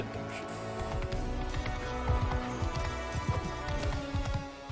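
A horse gallops in the Mount and Blade II Bannerlord video game, rapid clip-clop hoofbeats in an uneven running rhythm under a dense in-game soundscape, moderately loud, with some speech mixed in.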